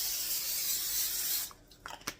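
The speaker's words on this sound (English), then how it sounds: "you're going to spray it with your spray so that nothing sticks to it" Cooking spray hisses steadily onto tortillas for about a second and a half, then stops, followed by a few soft handling clicks.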